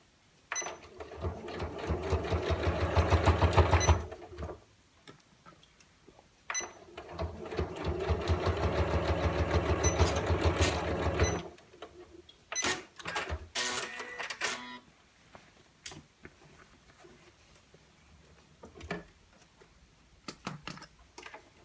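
A sewing machine stitches the corners of a fabric storage caddy in two long close bursts of rapid mechanical whirring, followed by short stops and starts, clicks and handling noise, with no talking.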